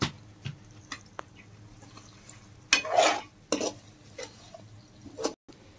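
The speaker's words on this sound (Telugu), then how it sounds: "ఇప్పుడు ఈ మిశ్రమాన్నంతా కూడా ఒకసారి కలపాలి" A ginger and chili powder mixture for egg biryani is stirred in a bowl, heard as soft scrapes and taps with one louder burst of mixing, quiet and close.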